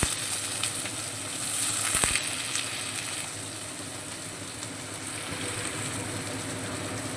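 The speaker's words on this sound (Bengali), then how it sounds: "আলুগুলো হালকা লাল করে ভেজে নেব।" Small diced potatoes fry in oil with tempering spices, giving a low, even sizzle that holds steady throughout, with one brief knock near the start.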